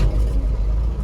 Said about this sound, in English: Fires right up, idle smoothly.